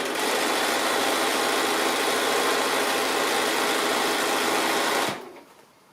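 Sewing machine stitching binding onto a quilted table runner, a steady loud rapid mechanical whir running for about five seconds before stopping abruptly, with no voices.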